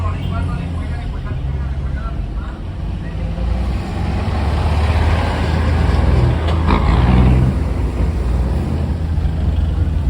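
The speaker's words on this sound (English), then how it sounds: "chicken buses everywhere." Chicken buses and other traffic rumble past on a street in El Salvador, a steady loud engine drone with a louder pass swelling near the middle, and faint voices underneath.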